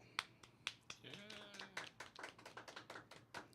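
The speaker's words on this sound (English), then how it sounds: "Nice little golf clap." A light golf clap, a few soft, sparse handclaps in an uneven rhythm, close and quiet, with a brief voice sounding in the middle of the patter.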